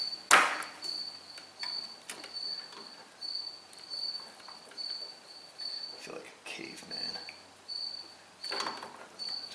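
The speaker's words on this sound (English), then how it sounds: "Just listen to the crickets, folks." Crickets chirp at night beside a Ford truck under repair. A steady, high, pulsing trill runs throughout, close and clear, along with occasional handling clicks and a brief spoken remark.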